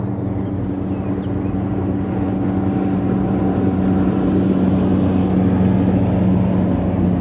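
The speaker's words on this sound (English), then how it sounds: "here goes our bass boat guy" A bass boat engine drones steadily with a low rumble, holding constant and slightly swelling as it passes at moderate distance on Ohio waterfront; no voices.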